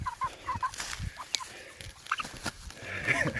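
A chicken loose in a hemp field clucks in short, irregular bursts, moderately close, amid rustling foliage and outdoor noise, with brief faint human sounds in the background.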